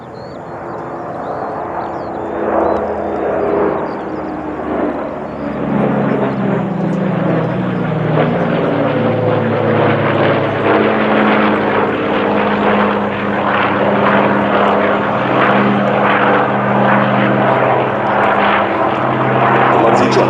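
A four-engined propeller airplane powered by Pratt & Whitney R2800 CB3 18-cylinder double-row radial engines roars continuously at the ILA Berlin 2018 airshow, loud and sustained for the whole stretch.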